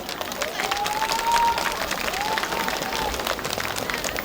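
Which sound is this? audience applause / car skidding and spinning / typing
audience applause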